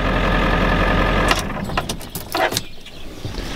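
A 1995 Ford F-350 XL with the 7.3L Powerstroke diesel running: a steady, loud idle clatter for the first seconds, then lighter clicks and jangling noises over a lower engine hum.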